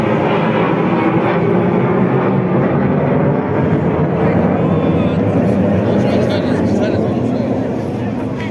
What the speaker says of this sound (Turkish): Evet, bir tane Rus savaş uçağı geçiş Oh my yapıyor.